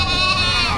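A single goat bleat, close and loud, a wavering nasal cry lasting under a second, at a cattle, goat and carabao market in Padre Garcia, Batangas.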